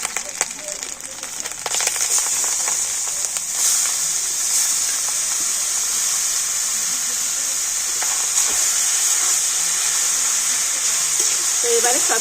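Grated beetroot and carrot hitting a hot pan for a rolled snack, a loud constant bright hiss of sizzling that holds steady for the whole stretch, with a few brief scrapes and no talking.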